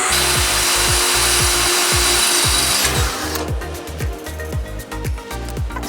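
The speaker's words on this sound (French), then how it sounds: "nous allons trouer le fer plat afin de mettre de la soudure dessus" A power drill boring holes through a flat iron bar, first a loud sustained whine with repeated bursts of grinding, then a rougher, choppier stretch of metal-cutting noise as the bit works through.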